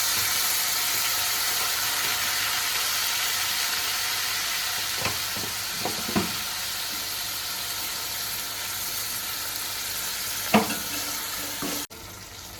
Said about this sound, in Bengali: এবার একটু জল দিয়ে আমি মশলাটা একটু কষিয়ে নেব।